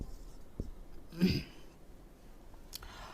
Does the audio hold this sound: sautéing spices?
no